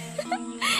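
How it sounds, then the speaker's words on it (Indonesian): A short, gurgling stomach growl rumbles and warbles for under a second, close and fairly loud. "Itu suara perutku."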